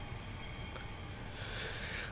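A Class 395 train running in Train Simulator 2020 on the way to Dover Priory, a steady faint rumble with a hiss and wheel noise that swells slightly toward the end.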